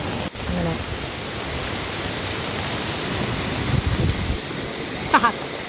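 A loud, continuous roar of rushing floodwater fills the whole clip, broad and steady like a strong flowing current, with faint voices briefly near the end.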